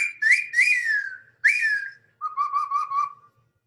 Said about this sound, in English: Oh, that's one of the old ones. The whistle I made.